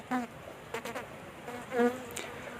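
Bees buzzing around a newly established hive box, a close, wavering drone with a few louder passes as individual bees fly near.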